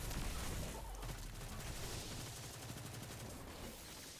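Dense, continuous gunfire from a Destiny firefight against an enemy in a lost sector bunker, loud and steady throughout with overlapping shots and no talking.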